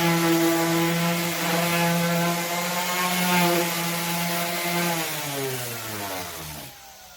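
A Jellas 5-inch random orbital sander with 120 grit paper runs on wood, a loud steady motor buzz with strong humming tones that dip in pitch as it slows near the end, with no voices.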